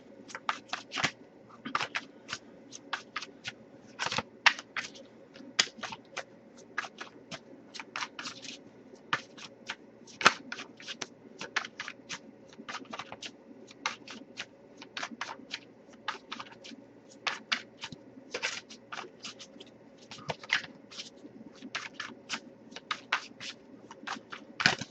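A deck of tarot or oracle cards is shuffled close by in a quiet room, a long series of soft, rapid flicking and riffling bursts with short pauses between them.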